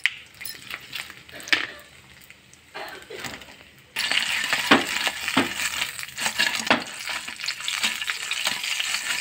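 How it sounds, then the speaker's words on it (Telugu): Fish frying in a pan tempered with spices, green chillies and curry leaves: quiet stirring and clatter at first, then a sudden loud, continuous sizzle with crackles as the fish hits the hot oil. "చేపలు వేసుకొని ఫ్రై చేసుకోవాలి."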